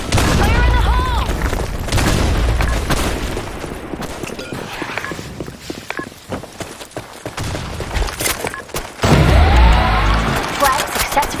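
Grenade blasts and rapid gunfire fill a video game match on a sandstorm-themed map, with sharp booms and crackling bursts overlapping, while game voice callouts and player shouting come through between the explosions.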